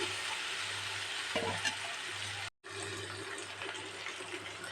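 Boiled cassava is tipped into a hot pan and stirred while making a cassava snack, giving a steady close sizzle with a brief scraping stir partway through and a short break in the sound.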